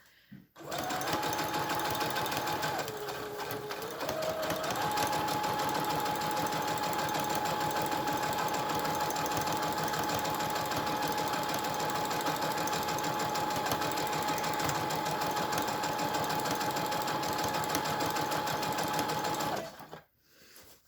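A sewing machine stitches patio cushion fabric in one long, steady run of close, loud motor whine and rapid needle chatter, with a brief change in pitch early on, then stopping near the end.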